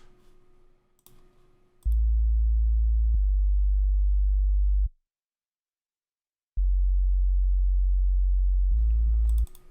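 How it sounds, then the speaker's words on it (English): A deep, steady sub bass synth tone from FL Studio sounds in two long sustained stretches separated by a brief silence, with light clicks at the edges. "Then we have a sub bass as well."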